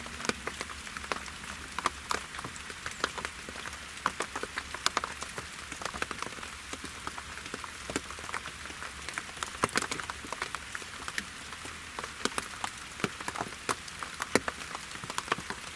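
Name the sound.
rain falling on a roofed hunting box stand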